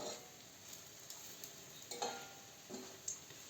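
Lazy pies frying in hot oil while being turned over and over, a soft steady sizzle with a few light scrapes and clinks from the utensil.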